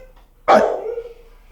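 A single loud dog bark rings out in a reverberant animal shelter, followed by a lingering echo and the start of another bark at the very end.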